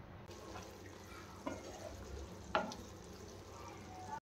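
Mutton fry being stirred in a pan, with a soft continuous sizzle and a few scraping clicks of the spoon near 1.5 and 2.6 seconds, close and fairly quiet, no talking.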